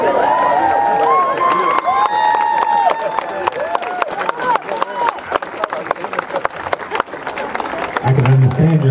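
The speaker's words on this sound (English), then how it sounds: "I can understand your clapping" An audience at a gathering breaks into dense, sustained clapping that fills the room, loud and close, with voices and crowd murmur mixed in.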